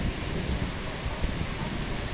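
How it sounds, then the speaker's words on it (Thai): Steady, loud rain fills the scene with a dense hiss, and a low rumble of thunder rolls underneath throughout. "อู้ฟ้าร้องแล้ว"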